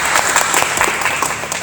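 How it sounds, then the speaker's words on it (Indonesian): Students in a classroom clap together, a steady burst of dense applause lasting under two seconds. "Tepuk tangan."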